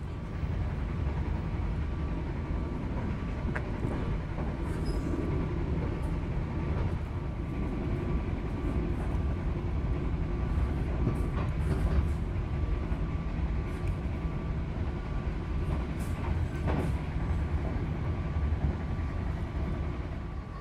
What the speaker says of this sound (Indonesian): Kereta api Ranggajati meninggalkan stasiun Ciledug